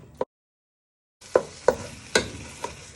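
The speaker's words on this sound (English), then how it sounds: "So you keep frying your chicken for a few minutes" Chicken pieces frying in a pan, with sizzling and several sharp scraping stirs of a utensil against the pan after a brief silence, close up.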